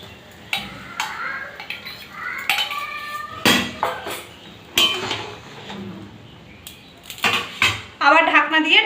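A metal pot lid clanks and clinks against the pot while arum lobe curry with prawns cooks, several sharp separate knocks and scrapes with some kitchen rattling between them.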